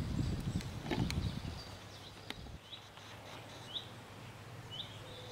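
Small birds chirp in short, repeated high notes across quiet Dutch countryside, faint and somewhat distant, after an opening of rustling handling noise and low background rumble.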